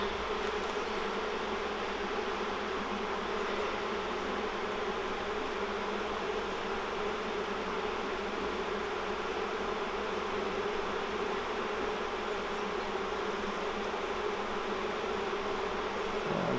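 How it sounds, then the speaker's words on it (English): Dense, continuous buzzing of many bees on hive frames, a steady close-up drone with no break, without voices. "There's a gazillion bees in these frames,"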